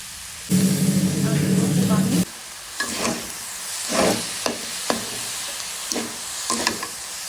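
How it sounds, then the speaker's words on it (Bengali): Grated coconut and sugar fry in ghee in a wobbling pan. A loud sizzling burst is followed by a series of rhythmic scraping stirs, close and clear. "নারকেলটা ঘির সাথে ভালোভাবে ভেজে নিব"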